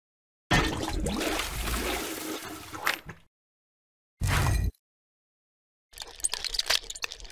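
Water splashing in the mobile game Kick The Buddy, heard as a long wet rush for about two and a half seconds, a short second burst, then a choppier trickling splash near the end, with no talk.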